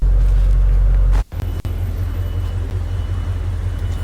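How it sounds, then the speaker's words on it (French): Audi RS6 with a steady, loud low engine rumble, broken by a brief drop around a gear change before the drone resumes, heard from inside the car on an early-morning drive in Paris. "Une petite promenade dans la RS6"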